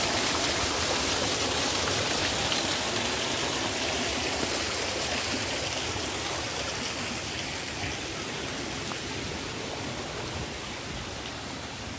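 A natural waterfall at Abeokuta park pours steadily, producing a dense, continuous broadband rush of falling water that stays loud and unbroken, with no voices heard.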